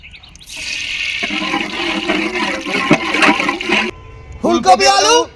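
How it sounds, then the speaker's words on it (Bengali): Cauliflower and potatoes frying in hot oil in a village-style Bengali kitchen, a loud steady sizzle and crackle lasting several seconds, then easing before a short burst of voices near the end. "ফুলকপি আলু ভেজে নিলাম।"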